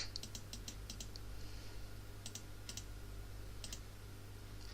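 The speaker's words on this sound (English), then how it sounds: "you double click on here like this, double click on this" Clicking of a computer mouse and keyboard during editing work, heard as short paired clicks in small clusters over a steady low electrical hum.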